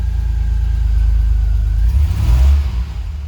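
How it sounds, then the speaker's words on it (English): A DeLorean engine revs up from a steady low rumble, climbing in a close, loud surge near the end before easing back; no one speaks. "So it revs totally fine."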